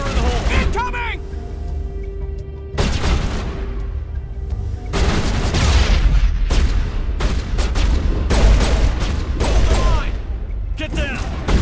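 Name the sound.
grenade explosion and gunfire, Mass Effect video game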